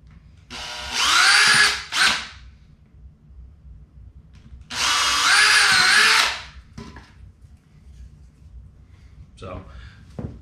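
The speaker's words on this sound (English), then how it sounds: "Drill a couple holes." A power drill whines loudly through wood in two separate bursts while building a garage gym barbell rack, each lasting a couple of seconds, with quiet handling noises in between.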